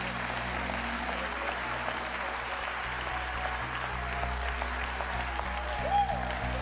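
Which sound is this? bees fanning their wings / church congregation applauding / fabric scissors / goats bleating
church congregation applauding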